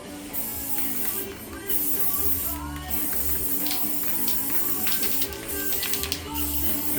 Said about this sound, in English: Spray paint painting.